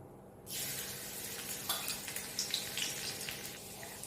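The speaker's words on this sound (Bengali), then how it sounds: "কড়াইতে আমি তেল দিয়ে নিলাম এরপর দেব কুচনো আদা আর রসুন" Chopped ginger and garlic hit hot oil in a wok, bursting into a loud steady sizzle with crackling spatters and faint stirring scrapes, no voices.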